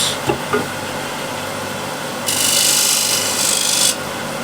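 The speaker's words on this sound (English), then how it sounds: "Small spindle gouge just to clean it up" A small spindle gouge cleaning up a wooden picture frame, giving a few light scrapes and then a louder, sustained rasping cut of about two seconds before it stops.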